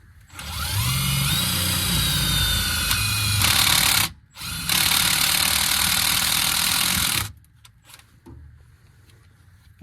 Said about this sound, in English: I'm just gonna go ahead and drill a small hole now.